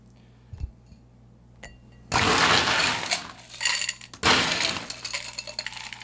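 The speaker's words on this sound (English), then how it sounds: "A little fresh ice in our glass." Fresh ice cubes tumble into a cocktail glass for a bourbon bramble at a home bar. After a few faint clicks, two loud bursts of clinking and rattling follow close up, each dying into smaller ticks.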